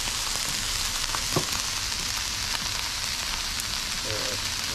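Hibachi-style fried rice fries in butter on a 22-inch Blackstone Adventure Ready griddle, giving a dense, even hiss like light rain, with a few faint taps and scrapes.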